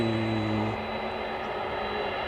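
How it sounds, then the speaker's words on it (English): Boeing 767 jet airliner coming in to land at DFW airport, a faint, steady distant engine roar with a brief tonal hum that fades. "Here's a 767 coming in from Ontario, California."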